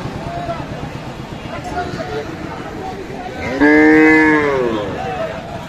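A thin, weak dairy cow with a calf at a busy cattle market gives one loud, drawn-out moo close by, rising above constant crowd chatter and nearby talking.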